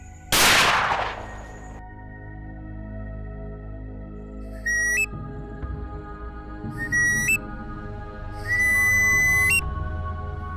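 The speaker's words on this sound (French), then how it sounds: "Ces coups de sifflet indiquent que le chasseur a atteint sa cible." A sharp gunshot at the start, then three shrill whistle blasts, each rising in pitch, the last held longest, in a quiet outdoor setting during a night hunt with dozo hunters.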